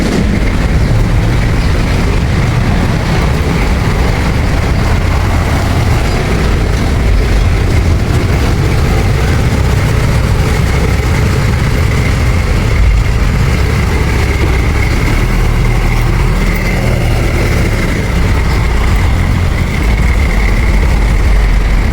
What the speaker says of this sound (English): The forklift is lifting the second wood crate.